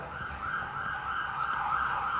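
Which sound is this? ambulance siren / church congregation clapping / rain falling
ambulance siren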